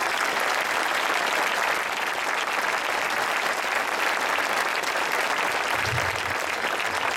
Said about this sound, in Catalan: jo també demano un aplaudiment per tots vosaltres